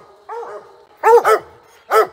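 Coonhounds bay at a raccoon treed during a Maryland coon hunt: one softer bark, then three loud, close barks in quick succession, with no talking.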